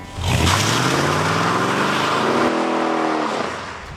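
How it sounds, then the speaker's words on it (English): A Land Rover Defender drives past with a loud, rising engine note that climbs steadily in pitch as it accelerates, then fades away at the end. "This is my new car."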